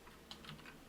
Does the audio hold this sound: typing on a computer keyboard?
yes